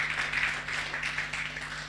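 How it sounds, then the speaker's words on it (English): Audience at a book launch applauding the panelists, a steady, moderately quiet patter of many hands clapping continuously with a low hum beneath. "Round of applause for the panelists."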